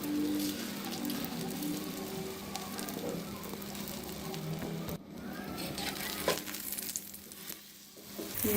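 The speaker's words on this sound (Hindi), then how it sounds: "अब मैं इसके ऊपर अंडा डालने लगी।" An egg fries on a ghee-greased tava, a continuous loud sizzle and crackle with a brief drop midway, close and steady with no speech.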